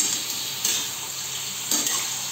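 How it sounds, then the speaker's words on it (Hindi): Masala and salt are stirred into food in a hot pan, making a continuous close sizzle with two soft scraping strokes of the spoon and no talk. "इसे बहुत ही अच्छे से चला देंगे ताकि चारों तरफ मेरा मिल जाए ये मसाला जो है"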